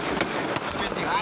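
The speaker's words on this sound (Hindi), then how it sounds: "जन्मदिन के जश्न के दौरान जमकर पटाखे फोड़े गए, काफी देर तक आतिशबाजी की गई।" Fireworks and firecrackers burst at a birthday celebration, with a few sharp cracks and pops rising over a dense, steady crackle of noise, all close and loud.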